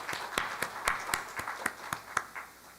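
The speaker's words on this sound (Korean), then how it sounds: "박수로 환영하겠습니다." A church congregation at a Christmas Day Sunday worship service claps to welcome a new member: a run of about ten sharp, fairly steady hand claps, moderately close, with no voices over them.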